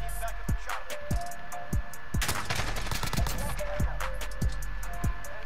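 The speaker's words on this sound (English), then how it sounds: "I just barely won that gunfight." Rapid gunfire cracks in a Call of Duty gunfight with an AK74u, a string of sharp, evenly spaced shots punctuated by heavier bursts, loud and close over game ambience.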